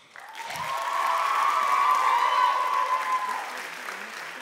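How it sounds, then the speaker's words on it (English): A crowd at a classical Indian dance arangetram breaks into sustained applause and cheering, a steady wash of many hands with a loud whistle-like tone, holding for several seconds before tapering slightly. "So big, big round of applause for them."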